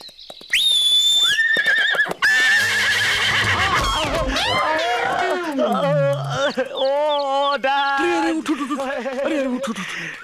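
A sharp, high whistle sounds, and a horse answers with a loud, long, wavering whinny up close, followed by more snorting and neighing in a comic film scene.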